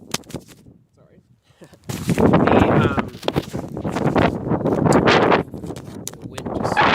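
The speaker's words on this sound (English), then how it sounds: "the wind just picked up" Gusting outdoor wind buffets the microphone in a loud, rumbling roar that swells after a quieter opening and stays strong, dropping briefly before rising again.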